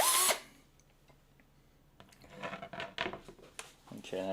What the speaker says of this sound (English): I might have to like drill out a bunch of holes if they don't fit too